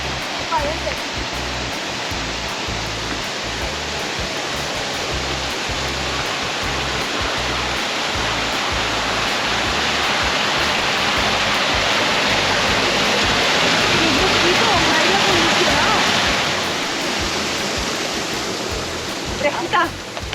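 Water pours steadily over mossy rocks, a loud, continuous rushing roar close by that swells slightly midway, with voices faintly present beneath it.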